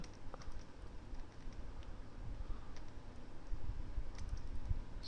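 Typing on a computer keyboard while coding a PHP and MySQLi calculator project, with soft, irregular key taps that sound close but quiet over a low background hum.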